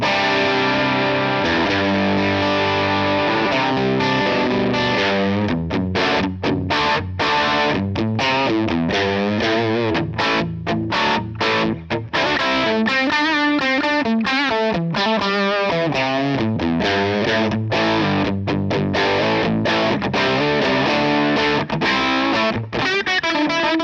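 Heavily overdriven electric guitar on the bridge pickup, through a Line 6 Helix model of a Vox AC30 Top Boost amp, plays chords and choppy riffs with thick, saturated distortion, loud and continuous throughout with short rhythmic stops.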